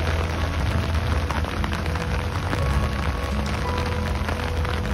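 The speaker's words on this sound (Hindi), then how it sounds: "बारिश बहुत हो रही है" Heavy rain pours down steadily, a dense continuous patter drumming on surfaces close by, with no voices.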